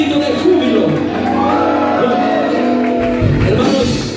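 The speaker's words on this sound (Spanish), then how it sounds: "Un grito de júbilo." Church congregation shouting with joy during a service, a loud continuous mass of cheering voices filling the room for the whole stretch, with deeper rumbling swell near the end.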